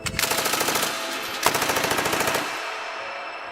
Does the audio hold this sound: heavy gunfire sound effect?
yes